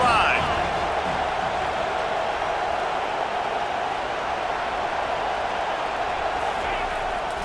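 A college football stadium crowd roars in a steady, broad wash of noise throughout, with a commentator talking over it.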